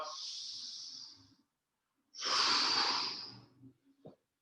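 Two audible breaths during yoga core work, a long airy exhale, then a silence and a stronger, breathier inhale-exhale with a short snort-like catch at the end, close and alone with no talk.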